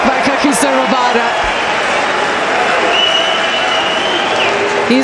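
At a Pakistan versus South Africa Test match, a cricket crowd applauds a shot with loud, continuous clapping and murmuring that fills the ground, while a commentator talks over it.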